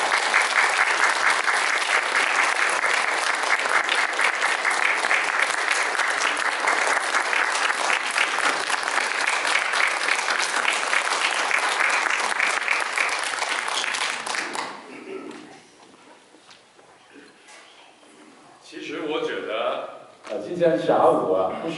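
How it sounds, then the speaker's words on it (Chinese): A church congregation gives loud, sustained applause for about fifteen seconds as a choir is welcomed, a thick continuous roar of clapping that then cuts off, after which a voice talks. "鼓掌欢迎他们。"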